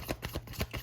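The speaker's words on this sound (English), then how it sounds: "3 more shuffles." Tarot cards are shuffled by hand in quick riffling bursts, about five soft rhythmic flutters in under a second, close and quiet.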